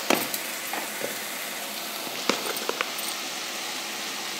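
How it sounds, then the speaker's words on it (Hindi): Red chilli, coriander powder, Kashmiri chilli and garam masala fry in a pan with a constant bright sizzle, punctuated by scattered scrapes and taps of stirring, close and steady with no talk. "इनको भी अच्छे से भून लेना है।"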